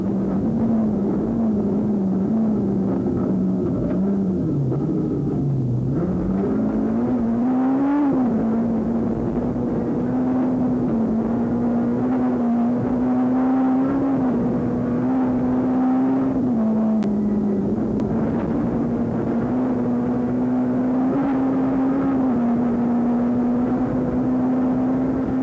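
A rally car runs flat out during the 2003 Rally of South Africa, heard from inside the cabin: a loud, continuous engine drone that rises and dips with gear changes and revving, alone without voices.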